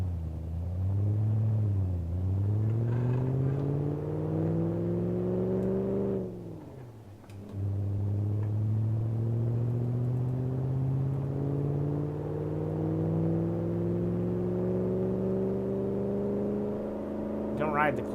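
Engine of a manual-transmission car in the BeamNG driving game revving and pulling away, its droning pitch rising, dipping and cutting out briefly as gears change. The tone then climbs steadily again under continuous talk.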